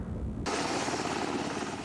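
A Pave Hawk military helicopter roars close and loud, a broad steady whoosh of rotor and engine that rises abruptly and holds.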